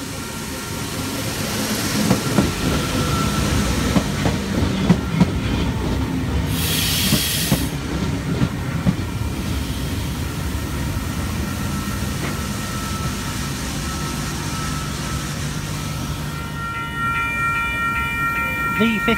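A Newcastle passenger train rolls through Wondabyne Station in New South Wales, its wheels rumbling and clattering steadily with a brief squeal of brakes, loud and close throughout.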